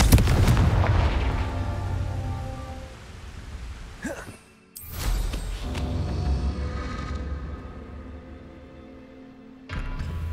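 Confringo fire spell in Hogwarts Legacy bursts with a heavy, booming blast at the start, followed by rumbling impacts, a brief drop to near silence, then another loud burst and a rolling boom near the end.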